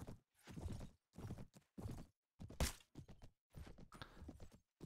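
Horse hooves clip-clopping with whinnies in the Mount and Blade video game, a series of separate bursts of galloping and thudding hoof noise, fairly close and loud, with short pauses between.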